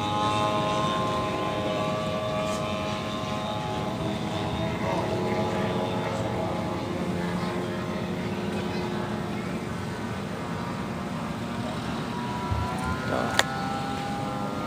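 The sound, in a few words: RC model biplane engine taxiing to flight line at airshow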